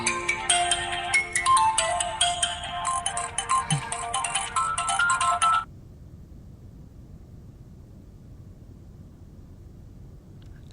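Phone ringtone playing loudly and repeatedly for about five seconds, then stopping abruptly, leaving quiet room noise.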